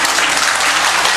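Church congregation applauding together, a dense, loud burst of steady clapping filling the room with no voices over it.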